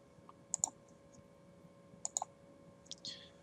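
Mouse clicks while working in the Panopto video editor: a few short, sharp clicks in two close pairs, then a softer drag-like scrape near the end, all faint over a low steady hum.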